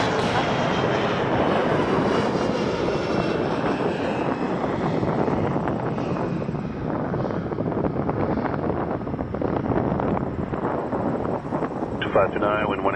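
A jet airliner takes off at Toronto Pearson Airport, its engines roaring loud and broad at a distance. Wind buffets the microphone throughout, and the roar slowly fades.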